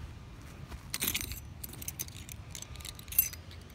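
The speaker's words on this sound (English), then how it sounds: "What are these even keys for?" A bunch of keys jangling and clinking close by, starting with a sharp burst of metallic rattling, then lighter intermittent jingles and a final bright clink, with no talk.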